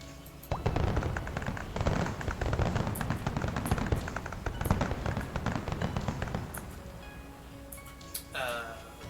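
Rapid crackling bursts of fireworks in the Minecraft video game, dense popping and rattling close up that lasts several seconds before thinning out, with a brief whistling sweep near the end.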